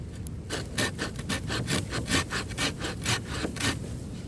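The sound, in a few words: hand saw cutting oak log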